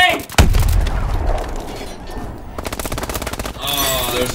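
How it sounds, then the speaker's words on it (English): A grenade blast and rapid automatic gunfire in the video game Call of Duty: a sharp, heavy boom early on, then sustained machine-gun bursts and a brief lull before another dense stretch of firing, loud and close, with a player's voice mixed in. "Oh no! Grenade!"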